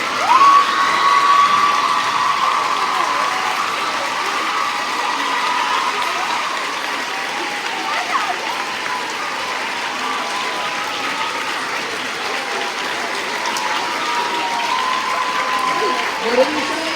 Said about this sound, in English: You may stand to applaud her achievements.